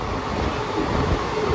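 A train running in the rain, heard from inside the carriage: a continuous loud rumbling, rattling roar with steady low-end vibration and no talk.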